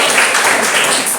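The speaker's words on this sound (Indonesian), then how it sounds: "tepuk tangan buat kita semua" A class of children clap their hands together at a teacher's cue during a morning lesson, a short, dense burst of steady clapping filling the room.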